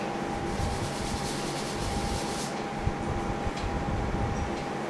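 Drawings of muscles are rubbed off a board with a steady, close scrubbing and wiping sound that continues for several seconds with a few faint taps.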